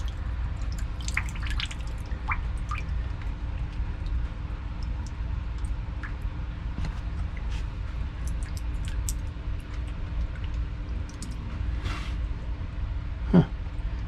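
Water drips faintly and irregularly from a newly installed shower valve that still leaks with the supply shut off, with scattered small droplet ticks over a low steady background hum.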